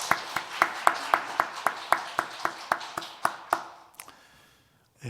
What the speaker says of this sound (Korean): 우리 하나님께 박수 영광 돌리면 좋겠습니다